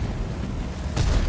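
A single heavy boom from a 5.5-inch artillery gun in a World War II tank game, a low thud arriving late after a stretch of dull rumbling background.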